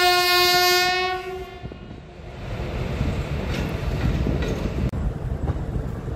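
A passenger train at a railway gate on the Thoothukudi to Tambaram route sounds a long, loud horn, then rumbles past steadily with rolling wheel noise and a brief clack.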